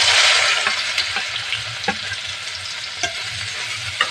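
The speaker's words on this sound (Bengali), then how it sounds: "এই তেলের মধ্যে এই আগে থেকে সোয়াবিন যেগুলো কুচিয়ে রেখেছি এবার এগুলো দিয়ে দেবো" Chopped soya chunks hit hot white oil in a wok and fry with a loud, steady close sizzle, punctuated by occasional sharp pops and stirring clicks.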